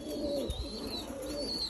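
American giant pigeons at a pigeon farm coo softly and steadily, a low murmuring burr repeating close by over a constant background hum.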